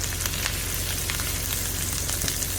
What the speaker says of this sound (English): we are going to add some steak bites that are left over from the ribeyes I made the other night. Get that in there to cook.